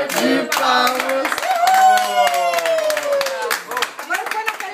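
Rhythmic group clapping at a home birthday celebration for a mother, loud and close, with people singing together over the steady beat of hands.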